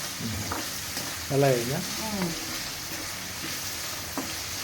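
Onions frying in a pan with a steady sizzle, Telangana-style cooking, with a few brief voiced sounds over the frying around the middle.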